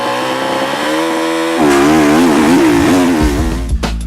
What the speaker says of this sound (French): je mets pas trop de coups de gaz pour pas trop faire chauffer la moto